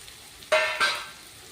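Curry leaves and coriander dropped into hot oil for tomato chitranna, two quick bursts of sizzling spatter close by that fade quickly over a quiet background.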